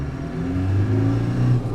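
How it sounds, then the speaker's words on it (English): A 1989 Land Rover 110 with a 200Tdi diesel engine accelerates on the road, its engine drone rising steadily in pitch as it pulls, heard from close by. "then we'll accelerate one more time through all the gears."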